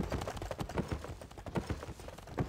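A horse's hooves clip-clop steadily in the video game Albion Online, a quick, even rhythm of soft thuds at moderate level with no talk over them.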